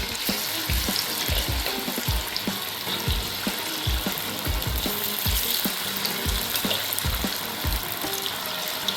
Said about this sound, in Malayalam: ഓയിൽ ചൂടാകുമ്പോൾ നമ്മൾ തയ്യാറാക്കി വെച്ചിരിക്കുന്ന നമ്മുടെ കോളിഫ്ലവർ അതിലിട്ട് നന്നായിട്ട് വറുത്തെടുക്കാം